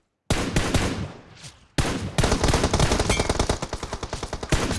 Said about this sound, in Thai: ตัวนี้ตัวหนึ่งยิงเจ็บเหลือเกิน